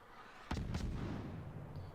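Naval gun salvo in World of Warships, two sharp booming shots a quarter second apart followed by a rolling low rumble that decays, fairly faint and distant.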